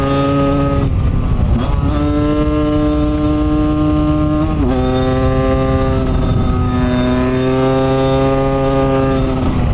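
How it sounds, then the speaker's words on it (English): A project motorcycle returned to stock setup roars loudly and steadily while being ridden, its engine drone dipping and climbing in pitch at a couple of gear changes. "I can still ride this bike."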